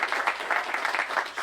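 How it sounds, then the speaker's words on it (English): An audience at a high school track and field team recognition event applauds steadily, a dense wash of many hands clapping at once with no pause. "Give him a round of applause."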